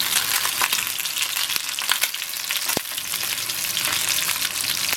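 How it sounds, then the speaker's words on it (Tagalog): Fish frying in a pan with a steady, loud sizzle and crackle throughout, broken by occasional sharp pops and spatters; no voices. "Iprito ko ito."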